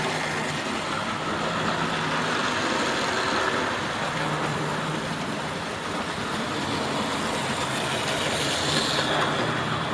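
A model railway locomotive named Heimat runs along a layout, giving a steady, continuous rumbling whir that holds an even level throughout, with no voices.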